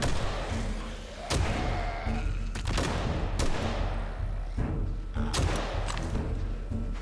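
Rapid gunfire from a sniper machine gun in the survival game 7 Days to Die, loud bursts of shots with sharp cracks at irregular intervals over a dense, noisy game background with thuds.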